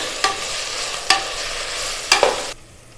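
Fresh mint leaves sautéed in a pan for kuska biryani, with a steady sizzle broken by three sharp stirring scrapes before the frying noise drops away near the end.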